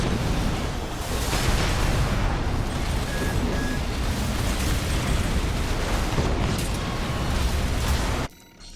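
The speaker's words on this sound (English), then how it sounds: "Use Gatling cannon to overwhelm the shields" Gatling cannon on a mech in an Armored Core VI arena battle, a loud, dense, unbroken roar of rapid fire lasting several seconds before cutting off abruptly near the end.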